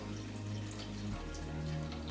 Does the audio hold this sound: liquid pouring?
yes